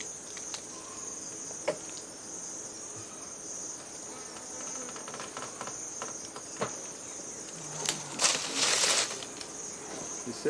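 Steady honey bee buzzing at an open hive fills the air, a dense continuous hum with a brief louder swell near the end as something passes close.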